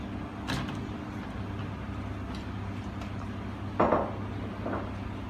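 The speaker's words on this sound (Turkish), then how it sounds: "Şimdi ben tereyağımı bolca tereyağı atıyorum." Butter dropped into a steel pan for semolina halva lands with two brief metallic knocks, one early and a louder one later, over a steady low kitchen hum.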